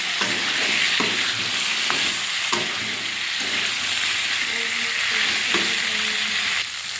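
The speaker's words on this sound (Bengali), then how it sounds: "এবারে ভেজে রাখা ফুলকপি আলুটা দিয়ে দিই, দিয়ে ভালো করে কষিয়ে" Fried cauliflower and potato are sautéed in oil in a pan, a loud, continuous sizzle punctuated by regular scraping strokes of a spatula and occasional knocks against the pan.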